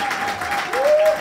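A church congregation applauds a newly baptised woman as she is called forward, a brief burst of dense clapping from a crowd indoors, with voices and a raised tone rising over it.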